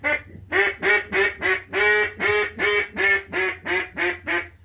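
A handmade wooden duck call of ash wood blown in a steady run of about a dozen loud, nasal quacks, evenly paced and close up, with no talking.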